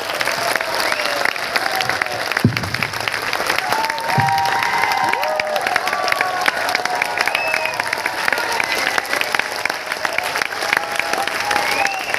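A large audience at an RCM academy program in Bhilwara claps loudly and steadily throughout, a dense continuous wall of applause with a few faint voices and short tonal sounds mixed in.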